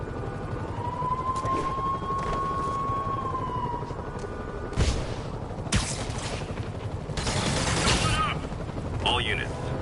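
Bursts of rapid gunfire and heavy impacts in a Spider-Man video game over a tense electronic soundtrack, with a sustained tone early on and scattered loud blasts later.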